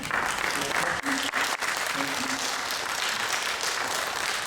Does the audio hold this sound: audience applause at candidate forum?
yes